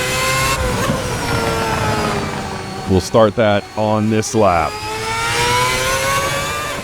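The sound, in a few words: RSS 2010 V8 race car engine revving, sim racing game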